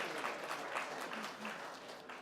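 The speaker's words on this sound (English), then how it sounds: "Let's give him some applause for that." An audience at a television industry conference applauds a keynote speaker, with dense, steady clapping from many hands filling the room for a couple of seconds.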